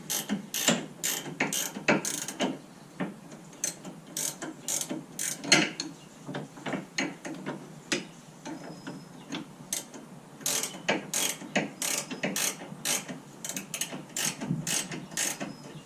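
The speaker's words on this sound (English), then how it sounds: "So I'm going to remove it from this bottom bolt here." A ratchet clicks in rapid bursts, removing the bottom bolt of a front strut on a Saturn Ion, loud and close with short pauses between runs of quick metallic ticks.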